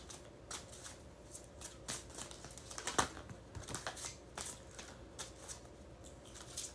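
A deck of tarot cards is shuffled close by for several seconds, giving a steady papery riffle with soft flicks and taps, fairly quiet and with no talking.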